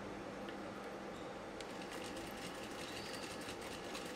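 Tailor's sewing machine stitching a blouse, a faint, steady mechanical whirr running without pause through a few seconds, quiet and alone without talking.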